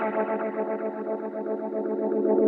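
Electric guitar through a Line 6 HX Stomp running two delays at once, the second set to half the first's time, giving a dense, continuous wash of overlapping repeats at steady loudness.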